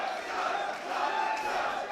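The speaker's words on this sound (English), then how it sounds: "Nice reaction for Robbie Eagles in the crowd" A wrestling crowd at a DEFY event roaring for Robbie Eagles, a sustained loud wash of cheers and shouts filling the venue.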